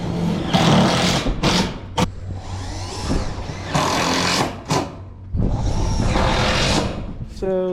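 Old reclaimed screws being power-driven into reclaimed sheet tin on a calf kennel: several loud, close bursts of whirring motor and grinding metal, each lasting a second or two and separated by short pauses.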